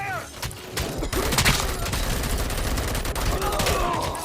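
Dense, sustained gunfire from a RoboCop Rogue City shooter game, rapid overlapping shots and impacts in a chaotic firefight with occasional game voice lines mixed underneath.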